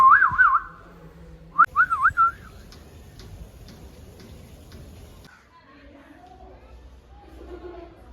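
Two short bursts of warbling human whistling, a rising and falling tune, at a zoo, followed by quiet ticking and faint background noise.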